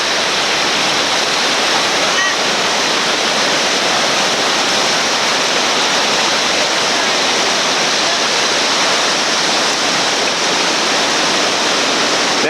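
Loud, steady roar of whitewater rapids at Fayette Station, West Virginia, a dense rushing wash that stays constant throughout with no breaks, as a raft runs the river.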